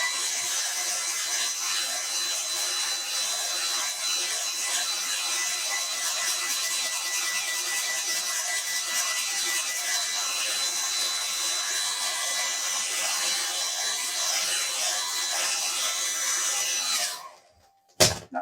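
A hair dryer blows over a wet watercolour painting, giving a steady, loud airy whoosh that runs continuously at close range, then cuts off abruptly near the end.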